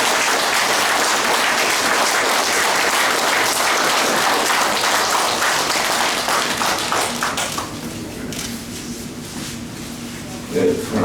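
Audience at a farmers' leader endorsement ceremony gives loud, dense applause that holds steady for about seven seconds, then thins out to scattered claps and murmuring voices.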